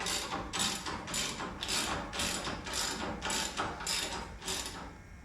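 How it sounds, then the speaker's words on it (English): A ratchet wrench tightens the motor mount bolts on a studio machine during a belt replacement, clicking loudly and rapidly in steady repeated bursts of pawl ratcheting, up close with no talk. "tighten up those 4 bolts."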